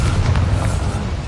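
A Confringo spell explosion in Hogwarts Legacy, a loud, close, low rumbling boom that fills the whole short moment and fades only slightly toward the end.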